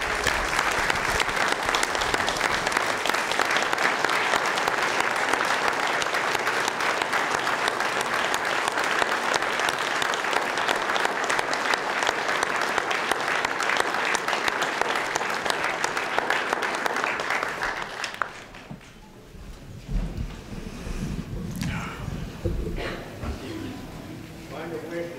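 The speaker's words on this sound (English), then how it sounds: "he needs an applause" Sustained applause from a town meeting audience honoring a retiring town employee's 25 years of service, steady and dense for about eighteen seconds before dying away into quieter room noise and murmuring voices.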